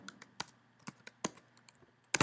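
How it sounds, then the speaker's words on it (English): Computer keyboard keys pressed for a command-and-K shortcut at a command line, several quiet, close clicks and taps at an irregular pace with no talk. "press and hold the command button on my keyboard and then hit the K letter"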